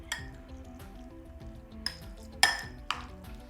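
A spoon stirs chopped onion through a dish, with clinks and scrapes against the bowl, including a few sharper knocks near the middle and end, close and fairly quiet with no talking.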